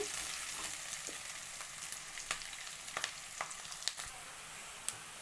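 Onion and curry leaves fry in hot oil in a pan, giving a steady soft sizzle punctuated by scattered sharp pops and crackles.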